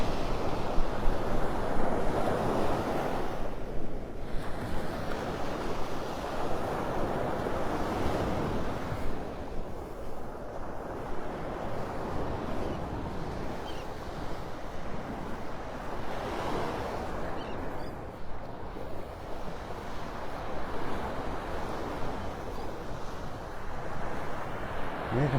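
Steady beach surf rolls in under gusting wind at Delnor-Wiggins beach in North Naples, Florida, a continuous broadband wash with wind buffeting the microphone throughout and no talking.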